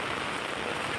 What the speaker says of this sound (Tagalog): talagang lumalakas ang ulan